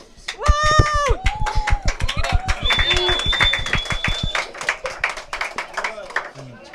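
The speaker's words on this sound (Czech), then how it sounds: "Potlesk pro Erika." An audience applauds a contestant named Erik on a Czech blind-date show, steady clapping beginning after a brief burst of voices and continuing at moderate loudness to the end.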